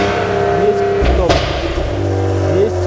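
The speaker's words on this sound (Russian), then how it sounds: "Давайте включим зажигание сперва." A Maserati Ghibli engine turns over and runs after the ignition is switched on, giving a steady low mechanical drone with some rising and falling tones. A person talks over it throughout.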